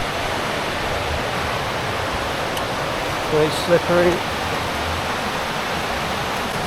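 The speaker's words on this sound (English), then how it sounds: "As you can hear, the rivers are wild today." A river swollen and in flood after days of constant rain rushes with a steady, dense roar throughout; a person briefly speaks a short phrase partway through.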